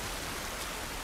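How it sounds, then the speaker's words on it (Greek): Steady rain falls outdoors in The Last of Us Part I, a dense, even hiss with no voices, heard throughout the short stretch. "Τη βροχή δεν μας βοηθάει καθόλου"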